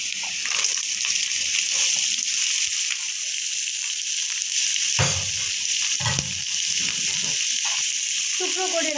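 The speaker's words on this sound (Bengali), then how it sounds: "পেঁয়াজ আর রসুনটা ভাজা হয়ে গেছে। এখন এর মধ্যে দিয়ে দেবো এঁচোড়।" Jackfruit frying in a pan with onion and garlic gives a steady, bright sizzle throughout, with a couple of duller knocks from stirring partway through.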